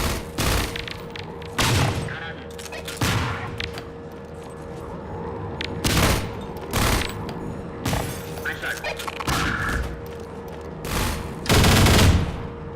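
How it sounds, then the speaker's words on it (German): Grenade explosions and gunfire in Half-Life 2 on Xbox 360: a series of loud, sharp bursts recurring every second or two over a steady mechanical hum, with a heavier blast near the end. "Granaten!"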